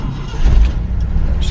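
A 1966 Ford F100 pickup truck's engine, loud and close, a low rumbling surge that swells briefly as the throttle is tapped, with a voice over it.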